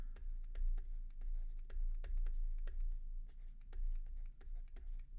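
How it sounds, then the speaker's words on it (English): Pen writing a note on paper during an anatomy lesson, a quick run of scratchy strokes and taps in steady irregular rhythm, close and fairly loud with no talk. "the same nerve, which I will write down right now"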